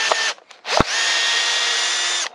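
A Bosch PSB 1800 Li-2 cordless drill drives a screw into a pine joist without a pilot hole: a couple of short motor bursts, then a loud, steady close-up whine lasting about a second and a half before cutting off.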